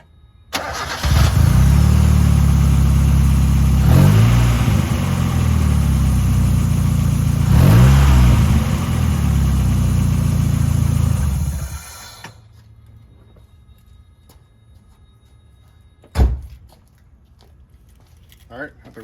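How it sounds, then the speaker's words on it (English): A 1989–97 Mazda Miata MX-5 engine cranks and catches after a spark plug and ignition wire change, then settles into a loud, steady idle for about ten seconds before shutting off, followed by quiet and a single thump. "We'll go ahead and start up the car and make sure it idles and runs okay."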